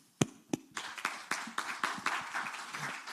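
Audience applause at a COP27 climate side event panel in Egypt, opening with two sharp separate claps and then building into a steady, moderate round of clapping from a small group.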